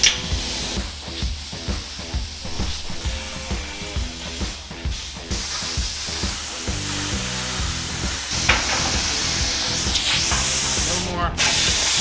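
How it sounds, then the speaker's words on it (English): Quarter-inch steel plate being cut for a fuel tank skid plate on a rat rod wrecker, a steady harsh spraying hiss that runs loud and continuous, with rhythmic pulses early on and a sharp cutoff near the end. "we're gonna cut, this is gonna be the bottom of the fuel tank skid plate"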